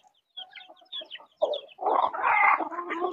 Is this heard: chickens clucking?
yes